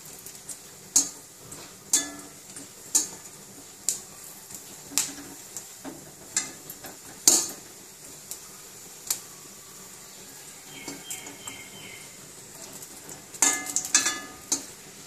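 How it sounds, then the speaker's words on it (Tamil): Asafoetida fries in a little oil in a pan, a faint sizzle broken by regular sharp clicks of a spatula stirring and scraping, about one each second, with a quick cluster near the end. "அடுத்தது பெருங்காயம், கொஞ்சோண்டு எண்ணெய் விடுறேன். பெருங்காயத்தை நல்லா பொரிச்சு எடுத்துக்குவோம்."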